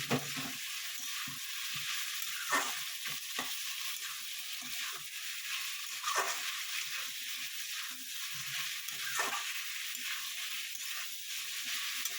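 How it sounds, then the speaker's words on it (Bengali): Food frying in a pan, a quiet, continuous sizzle with faint scraping and clinks from stirring now and then. "আমি এটাকে ভাজা ভাজা করে করবো"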